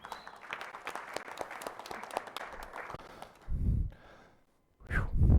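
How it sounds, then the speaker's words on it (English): An audience applauds at a meeting, a crowd's scattered clapping that carries on for about three seconds before fading, followed by loud close breaths and sighs near the microphone. "I think that deserves an applause right there."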